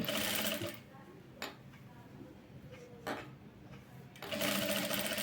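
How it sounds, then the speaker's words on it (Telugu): Domestic sewing machine stitching leaf-model piping, a steady close whir that runs in bursts at the start and end with a quieter pause between, where light mechanical ticks and handling noises come through. "ఇలా నీట్గా స్టిచ్ చేసుకుంటూ వెళ్ళిపోవాలి"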